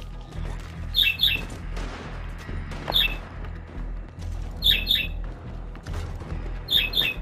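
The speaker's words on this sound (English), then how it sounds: "you hear the bird in the background?" Repeated paired bird chirps in a video game sound out at intervals over a low, steady game rumble, bright and moderately clear in the background.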